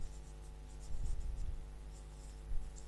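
A pen writing on a board during an accounting lecture, close scratchy strokes in short bursts over a faint steady hum.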